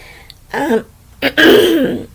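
Two harsh throat clearings from one person, a short rasp followed by a louder, longer cough-like clearing, close and dry against a quiet room.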